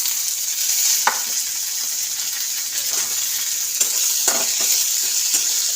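Onion stalks frying in a pan for a Bengali fish curry give a continuous, fairly loud sizzle, broken by occasional spoon taps and stirring scrapes close by, with no voices.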